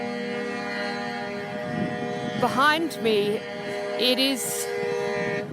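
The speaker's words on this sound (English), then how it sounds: "I don't know if you can hear the honking going on behind" Air horns from a couple of hundred large trucks at a rally in Canberra sound as sustained, overlapping tones with rising blasts in the background, while someone talks over them in the foreground.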